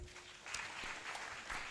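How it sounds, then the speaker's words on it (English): Scattered audience clapping at a law students' association launch event, uneven claps rising after a short pause and continuing at moderate volume in a reverberant hall. "Let's clap for the 3 judges."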